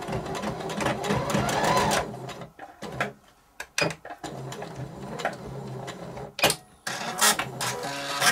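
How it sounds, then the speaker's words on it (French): A sewing machine runs a straight stitch along bias tape: steady mechanical whirring broken by pauses, short bursts and clicks of the needle and handling, recorded up close without talk. "je vais venir réaliser ici une couture au point droit à 1 cm à peu près"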